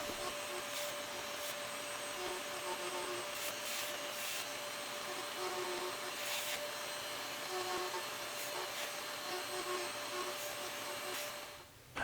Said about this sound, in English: I've grabbed my Dremel tool and I made some spherical indentations on the surface